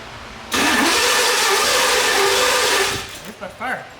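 A third generation Pontiac Firebird Formula engine cranks with a loud, steady whirring grind for about two and a half seconds, then cuts out without catching, leaving a few short bursts as voices talk nearby.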